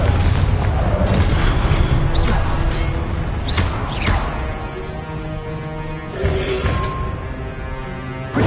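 The Confringo fire spell bursts in the Hogwarts Legacy video game, a heavy booming blast with whooshing swells and crackling debris that fade into a sustained rumble.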